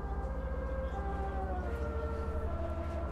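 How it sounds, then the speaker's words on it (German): A steady wailing ambulance siren with a synthetic, game-like tone from Bus-Simulator 16, held at an even level over a low engine hum. "Krankenwagen wieder unterwegs."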